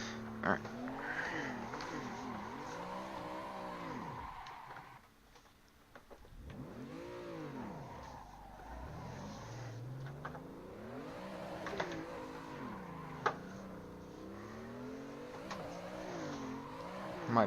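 Drifting car in the Assetto Corsa racing game, its engine revving and falling in long sweeping waves with brief tire squeal, steady and close for most of the stretch with a short dip in the middle.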